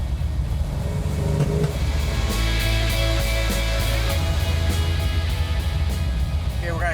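A car fed by three factory 2-barrel Holley carburetors revving, a loud continuous engine roar with a deep low rumble and rising pitch, close and sustained throughout.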